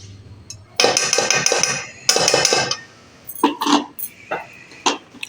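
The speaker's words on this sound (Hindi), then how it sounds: "तो फिर से हम अपना पैन रखेंगे और इसमें डालेंगे 1 चम्मच देसी घी" A metal pan clanks and rattles onto a kitchen stove in short loud bursts, followed by lighter clinks and knocks, close and with no talking.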